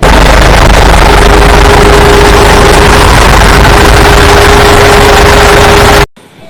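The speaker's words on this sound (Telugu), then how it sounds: "సభ్యులందరూ కలిసి ట్రాక్టర్లో పొరుగురికి బయలుదేరుతారు" A steady, loud engine drone runs without a break, a continuous low rumble with a constant tone, then cuts off abruptly near the end.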